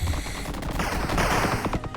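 Continuous rapid shot fire in a Touhou fangame, a dense, unbroken stream of quick repeated shooting sounds layered over game music, loud and steady throughout with no talking.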